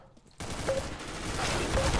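Gunfire in Counter-Strike: Global Offensive comes as a few brief, sharp shots over constant game ambience after a short quiet start.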